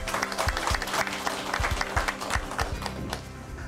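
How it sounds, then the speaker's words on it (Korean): Audience at a Kyung Hee University citizens' college lecture applauds to welcome professor Moon Young-hee: a sustained, fairly loud burst of many hands clapping with some low thumps mixed in, steady throughout before easing slightly at the end. "선생님 다시 한번 박수로 모시겠습니다."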